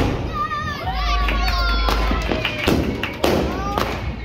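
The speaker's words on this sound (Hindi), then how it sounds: "तो ये फैमिली छत पे पटाखे जलाने, अब देखते हैं पटाखे जला" Diwali firecrackers go off on a rooftop with family, a few sharp thuds and pops in quick succession amid excited children's voices and chatter.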